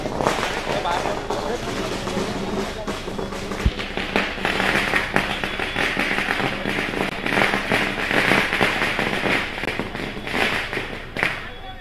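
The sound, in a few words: firecrackers bursting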